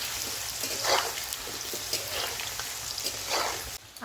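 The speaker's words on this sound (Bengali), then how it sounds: "আলুটা ভালো করে ভেজে নেব।" Potatoes frying in hot oil in a home kitchen, cooked for a chana curry: a steady, fairly quiet sizzle with bursts of louder crackling, heard alone without talk and dropping away just before the end.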